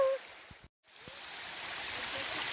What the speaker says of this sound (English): here is the top part of this magical waterfall